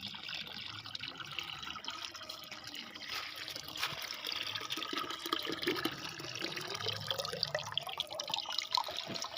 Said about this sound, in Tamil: தண்ணி எவ்வளோ தண்ணி ஓடி வருதுன்னு பாருங்கள்